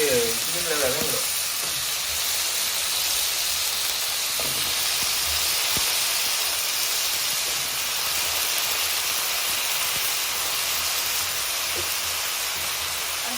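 Eggplant sizzles steadily in a hot pan, a close, continuous frying hiss with a few light stirring knocks, under faint background voices.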